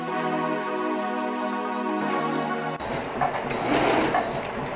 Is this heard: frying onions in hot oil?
no